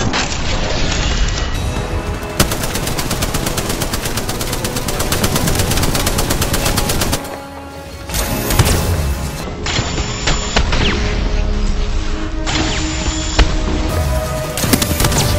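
Charge Rifle shots and other heavy gunfire from Apex Legends fill the clip, loud and close, as a dense stream of rapid blasts and crashes with a short lull near the middle.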